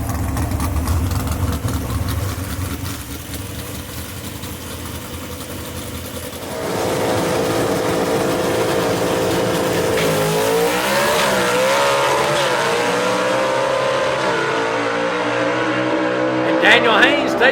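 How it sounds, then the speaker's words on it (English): Gasser drag race cars at Union Dragway roar down the strip, a loud engine rumble that swells into a sustained high-revving run with shifting pitch, with a commentator talking over the racket. "That is a good drag race right there."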